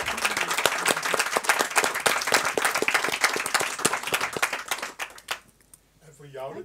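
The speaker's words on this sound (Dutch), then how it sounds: "Ik wil jullie graag vragen om een applaus te geven aan Bas Beuwing, aan Maarten Scherk" An audience at an evening talk gives dense, energetic applause that fades out after about five seconds, followed by a speaking voice.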